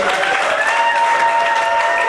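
Applause from the guests at a civil wedding ceremony in a town hall, steady and dense throughout, with some cheering mixed in and a few voices faintly audible underneath.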